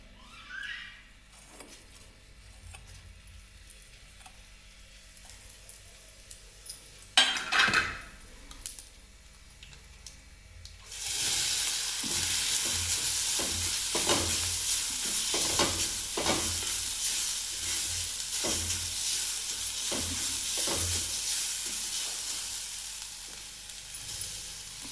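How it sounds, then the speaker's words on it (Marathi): After a quiet stretch with a few faint knocks, cumin seeds drop into hot oil for a coconut chutney and set off a sudden, loud, continuous sizzle. Light stirring scrapes sound under the hiss, and no one talks. "तेल तापलेलं आहे। यावर आपण जिरं टाकून घेऊ।"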